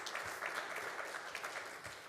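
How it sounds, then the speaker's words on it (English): An audience at a school district State of the District event applauds steadily for about two seconds, a dense, even wash of clapping with no voices over it. "Yes, let's give them a round of applause."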